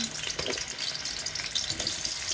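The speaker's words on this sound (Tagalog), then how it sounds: "Prito natin yung patatas." Oil sizzles and crackles steadily as potatoes fry, a continuous bright hiss close by.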